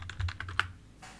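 A quick run of light, crisp key taps on a computer keyboard as a password is typed into a Linux app installer, with a final firmer keystroke and then quiet.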